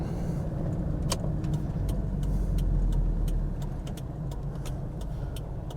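A 1991 Toyota Hilux Double Cab pickup truck cruises with a steady low road rumble and engine hum, with faint clicks and rattles ticking over the top.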